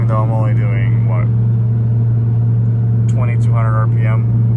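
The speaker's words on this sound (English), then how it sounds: "This car has downpipes, full exhaust. I think it's an ETS or race exhaust. So this thing is absolutely screaming" A Nissan GT-R with downpipes and a full ETS race exhaust drones deep and steady from inside the cabin at low RPM, under someone talking.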